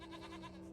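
Goats bleat in the video game Jade Empire, a brief, steady sustained bleat with a buzzy tone, close and fairly loud over a constant game background hum.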